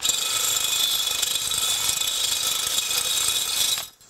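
A power drill spins a coat hanger inside the intake manifold runners of a MK4 TDI engine, whirring continuously at close range with a high metallic rattle and scraping, then stops abruptly near the end.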